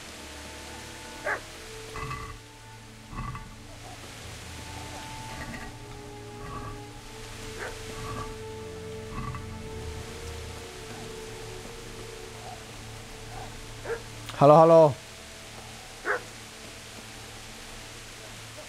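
Dog barking in the video game Kingdom Come, a short loud burst of barks stands out once against quiet ambient noise, with a few fainter yaps around it and someone speaking a little.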